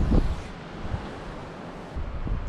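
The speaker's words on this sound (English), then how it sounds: "Wind is obnoxious." Wind gusts buffet the microphone at the waterside while fishing for blue crabs, a steady broadband rush with heavier low thumps near the start and end, loud and close.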